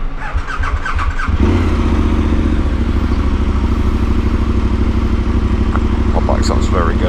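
A motorcycle ridden on the Isle of Mull in Scotland, its engine revving up from a brief idle into a steady, loud, close drone that carries on throughout, with a few squeaky chirps near the end.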